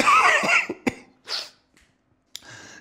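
A person coughs several times in close, harsh bursts, with a short throat-clearing sound and brief pauses between the coughs.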